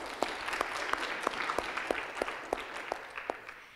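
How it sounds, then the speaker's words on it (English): A conference audience applauds the student and faculty organizers, a steady round of clapping with distinct individual claps throughout, moderately loud and without speech. "I want to encourage everyone to give a round of applause to the student organizers and the faculty organizers"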